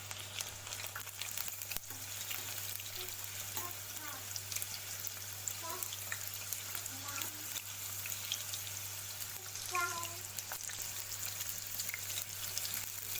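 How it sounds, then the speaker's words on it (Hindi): Prawns deep-frying in hot oil give off a steady, quiet sizzle with scattered small pops and crackles over a low, constant hum throughout. "हम उसको पलट के भी फ्राई कर लेंगे"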